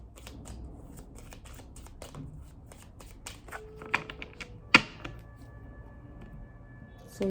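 A White Sage Tarot deck is shuffled by hand, with soft riffling and sliding card sounds, then a few sharper taps and snaps near the end, close and fairly quiet.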